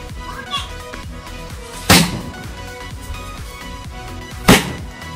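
Kuruvi paper sound crackers set off outdoors, two sharp loud bangs a few seconds apart with a faint pop earlier, over low background music.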